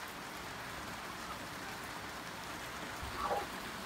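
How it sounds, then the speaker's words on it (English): Steady, faint rain falling outside a pen holding doves, turkeys and chickens, a soft continuous patter with a brief louder rustle near the end. "because it is raining out"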